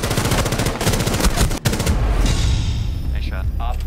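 Rapid bursts of automatic gunfire in the video game Rainbow Six Siege, loud and dense for the first two seconds, then fading into quieter scattered shots and effects, with a voice speaking briefly.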